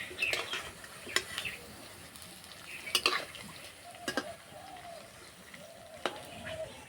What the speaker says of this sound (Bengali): 1 পিঠ ভাজা হয়ে গেছে, এবার উল্টে দেবো।